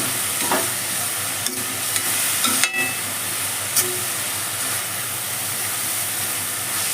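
Sliced onion and green chillies fry in a pan with a steady, close sizzling hiss and a few faint stirring clicks, with no one talking.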